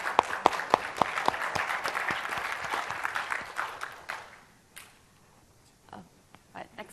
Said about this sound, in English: So a big round of applause for Don Noonan.